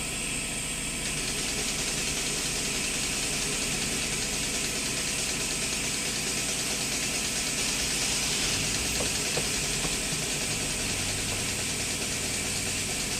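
A suction tool draws old brake fluid out of the brake fluid reservoir on a 2011 Traverse during a brake fluid exchange, giving a steady, loud, continuous hiss and whir that holds constant throughout with no talking.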